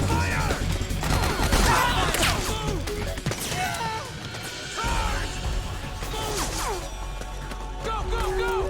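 Bursts of gunfire and crashing impacts from the video game Metal Gear Solid rattle out in irregular volleys, loud and busy, with shouted voices mixed in.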